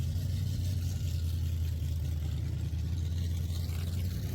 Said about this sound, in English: he's got his rat rod with another 4-cylinder Cummins, which is pretty tricked out.